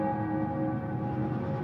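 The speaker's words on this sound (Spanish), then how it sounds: "¿De dónde proviene ese ruido? Parece una campana, ¿no?" A church bell in the game Murdered: Soul Suspect hums with a sustained, resonant tone, steady and moderately loud with no voices.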